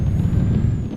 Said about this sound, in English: Right, handbrake off.